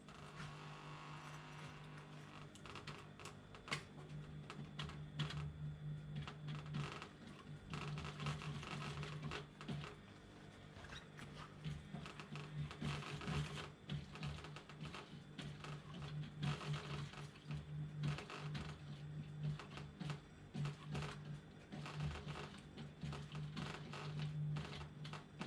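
A sewing machine stitches chair upholstery in a dense, continuous mechanical clatter with rapid rhythmic ticking, moderately faint and sustained throughout with brief pauses.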